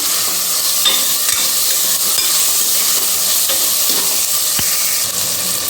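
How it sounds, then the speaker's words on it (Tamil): Tomatoes being stirred into dal frying in a pan, a steady bright sizzle and hiss with faint scraping of the stirring, close and continuous with no talk. "எல்லாத்தையும் சேர்த்து கலந்து விட்டுக்கலாம்"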